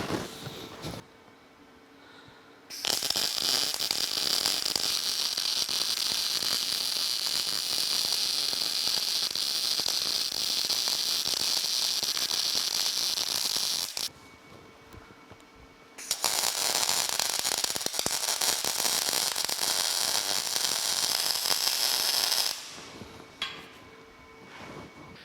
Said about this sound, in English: We'll go ahead and weld that in place.